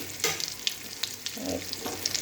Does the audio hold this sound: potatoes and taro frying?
yes